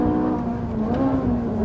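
A Ferrari 458 Italia's 570-horsepower V8 screams with a loud, close, sustained high-revving wail that holds a strong tonal pitch and wavers slightly, with no talk.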